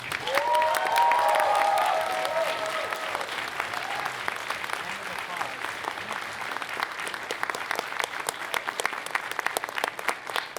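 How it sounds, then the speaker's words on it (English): A big round of applause at a furry convention closing ceremony, loud and dense at first and then settling into steady clapping, with a few voices and cheers in the crowd. "please give them a big round of applause"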